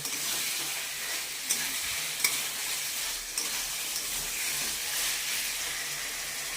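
Bengali spice paste for a paneer and cauliflower curry fries in a pan, a steady bright hiss and crackle with a few soft stirring knocks, close and moderately loud.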